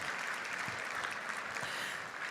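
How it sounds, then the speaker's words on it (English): A steady wash of audience applause at a Chicago debutante cotillion gala, dense and even from start to finish, with no voices over it. "somebody ought to give a round of applause for that"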